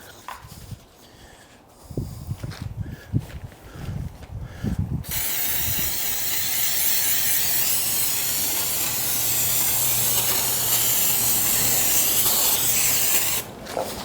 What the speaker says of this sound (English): spray the batting, spray the foam, and then just flip the foam over top of the batting